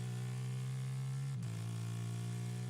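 An F3 race car engine drones loudly and steadily during Barcelona pre-season testing, its pitch dipping abruptly midway and then settling a little lower, a constant onboard-style tone that sounds off.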